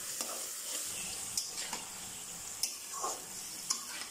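Fried fish going into a pan of sizzling spice masala: a steady hiss of frying with sharp clicks and taps of stirring scattered throughout, and no speech.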